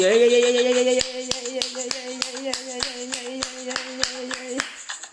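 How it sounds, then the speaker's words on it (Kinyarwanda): A church congregation claps together in a steady, even rhythm of sharp hand claps during a Kinyarwanda morning prayer service, first under a sustained sung note and then with voices chanting and singing over the clapping. "Komera Imana amashyi."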